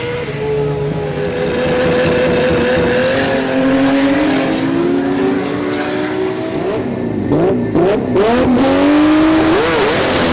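Tube chassis six-cylinder Pro Turbo drag race car at a Melbourne sport compact meet, engine roaring close and loud, climbing through rising revs with sharp gear changes and bursts near the end.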